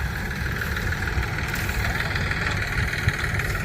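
A new groundnut thresher driven by a tractor runs steadily on a farm during the peanut harvest, a continuous mid-pitched mechanical drone with vibration and no pauses.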